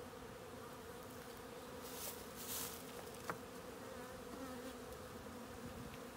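A top bar hive under inspection hums with a constant close swarm of honey bees, steady buzzing with a couple of brief louder passes and no speech.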